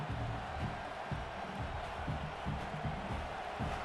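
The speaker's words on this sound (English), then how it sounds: "this home crowd is fired up and ready to make a difference today" A home crowd cheering at a college football stadium, Michigan Wolverines vs Oklahoma Sooners, a loud, dense, continuous roar filling the space with rhythmic rises and no clear single voice.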